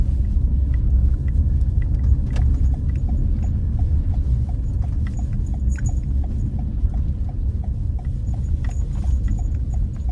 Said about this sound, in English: There goes that snowplow that I was just talking about.